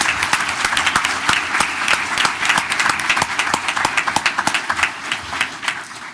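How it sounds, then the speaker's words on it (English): A township committee reorganization meeting audience applauds the police with dense, sustained clapping that fills the room for several seconds at a steady loud level. "So could you please give the police a round of applause?"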